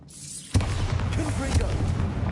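A Bombarda spell in Hogwarts Legacy goes off after a short quiet lead-in as a sudden deep boom, followed by a rumbling, crackling blast that roars on loudly and close.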